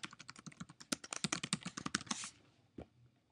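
Credentials being typed on a computer keyboard: a quick run of crisp, close key clicks in an irregular rhythm, ending in a pause and one final keystroke, with no voices.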